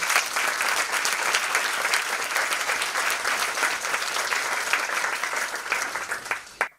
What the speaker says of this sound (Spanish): vamos a recibirle con un aplauso como se merece.